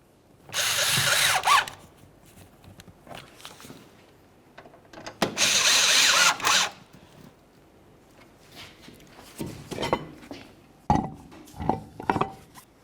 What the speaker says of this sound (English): Start in your mounting screws and snug them up.